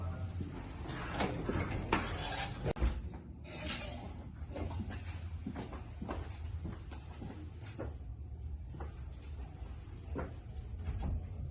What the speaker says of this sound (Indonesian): Saya bukakan pintu kamar utama ya, Bos.